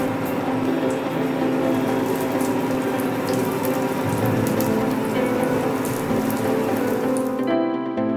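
Tikki patties shallow-frying in a little oil, a steady dense crackle and sizzle filling the whole stretch at close range, cutting off abruptly near the end.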